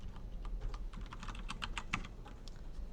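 Rapid keystrokes on a computer keyboard while writing HTML and CSS code, with a Tab key press among the clicks; close, steady clattering typing with no talking.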